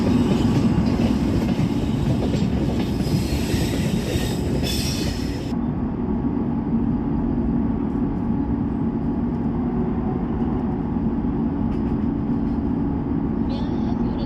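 Train moving through a platform in an Indian train simulator game, a steady rolling rumble with wheel noise throughout, loud and continuous, with a hiss that drops away partway.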